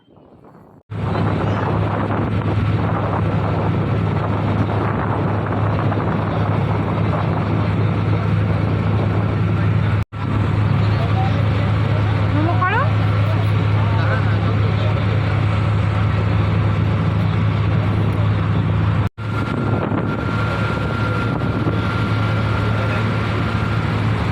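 A small engine boat motoring slowly along the Ganges at Naihati, its low steady hum and chug running continuously and loud with faint breeze and water around it, briefly cut twice.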